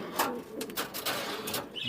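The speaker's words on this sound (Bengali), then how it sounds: "এক জোড়া গোল্ডেন গোল্ডেন গোল্ডেন কবুতর" Pet pigeons at a breeding farm give soft, faint coos in a few short bursts, with light background noise and a hint of voices nearby.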